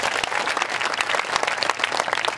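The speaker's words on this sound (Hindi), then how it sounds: "जरा एक बार बढ़िया वाली ताली बजा दो" An audience at a Hindi comedy poetry show claps heartily, a loud, dense burst of many hands with sharp individual claps audible throughout.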